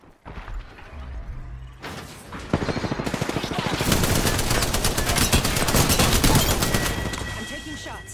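Rapid bursts of video game gunfire crackle continuously for several seconds, dense and loud, with a battle royale match's shield and ring action going on around it.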